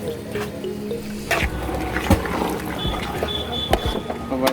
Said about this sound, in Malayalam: അപ്പോൾ വെള്ളം ഒഴിച്ച് പരിപാടികൾ തുടങ്ങിയിട്ടുണ്ട്.